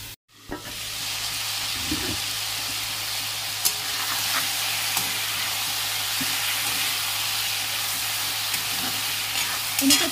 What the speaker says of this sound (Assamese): এনেকৈ অলপমান সময় এনেকৈ ভাজি লৈ ঢাকনিখন মাৰি থৈ দিম।